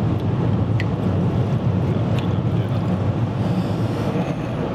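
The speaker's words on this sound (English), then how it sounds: "We have a little bit of train noise here." A nearby train rumbles past steadily and loudly, with a deep low roar and faint squeals above it, and no voices.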